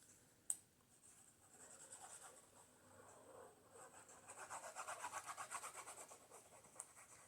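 A sharp tap, then steady rubbing and rhythmic scraping as a paper scrap is glued and pressed onto a 3x5 index card, close and quiet, getting louder and faster toward the end.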